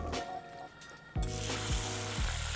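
Breaded baseball cards frying in hot oil, a steady close sizzle with bubbling crackle and a few brief clunks as pieces shift in the pan.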